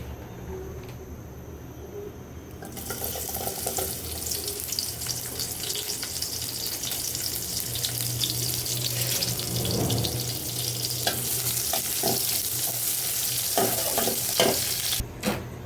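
Pulao rice cooks in a pot with a constant sizzle that starts abruptly, joined by repeated scraping and clinking of a spoon stirring, heard close without talk.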